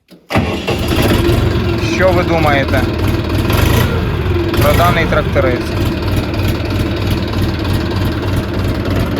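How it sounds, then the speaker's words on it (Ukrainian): A SKIF T-254 walk-behind tractor engine cranks briefly, catches and settles into a steady, loud, close idle that runs to the end, with someone talking over it. "І от, в принципі, можемо ми його і завести."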